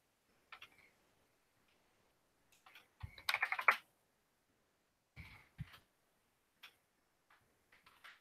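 Typing on a computer keyboard comes in scattered bursts of soft, close key clicks separated by quiet pauses, with no talk.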